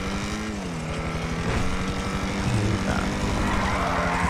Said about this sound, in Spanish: ese helicóptero